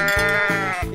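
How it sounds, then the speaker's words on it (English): A sheep bleating in a cartoon-style animal game, two or three quick, loud, wavering bleats close up. "Sheep."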